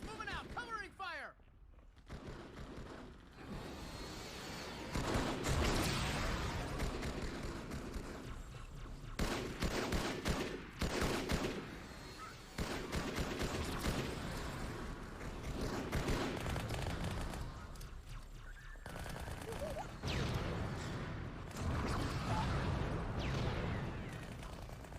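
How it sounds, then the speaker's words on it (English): Gunfire in the Halo 2 video game rattles in dense, repeated bursts across a long firefight, with heavy thumps and explosions mixed in and soldiers' voices shouting between the shots. "Friendly's moving out, covering fire!"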